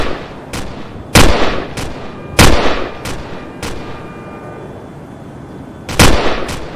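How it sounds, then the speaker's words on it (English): Gunfire in a Cyberpunk 2077 knock-off video game: loud, separate shots ring out at irregular intervals, about eight in all, some in quick pairs with a gap of quieter background between them. "He's shooting me."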